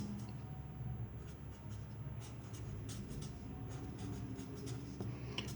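Faint, continuous scratching of pencil on paper as a number and word are written, soft strokes over low room hum.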